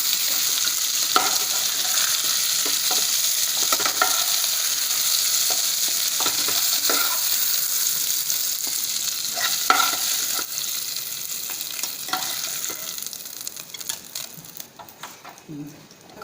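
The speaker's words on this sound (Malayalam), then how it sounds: "അപ്പോൾ നമ്മൾ ഈ ഷാലോ ഫ്രൈ ആയിട്ടുണ്ട് കേട്ടോ." Masala for Malabar chicken biryani shallow-fries in a pan, a constant close sizzle broken by scraping stirring strokes, with the frying noise easing off toward the end.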